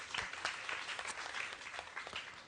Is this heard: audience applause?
yes